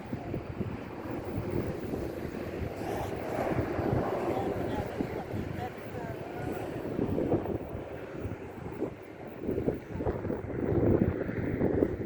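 Steady wind gusting over the microphone outdoors on a road trip, a broad continuous rush that swells and eases throughout, with faint low rumbling underneath.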